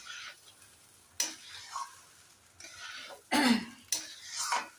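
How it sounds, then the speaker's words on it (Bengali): A spoon scrapes and knocks against a pot while Bengali pulao rice is turned over, giving a few separate scraping bursts with quiet gaps between them and a faint sizzle underneath. "ভালো করে নেড়ে চেড়ে নিতে হবে পোলাওটাকে।"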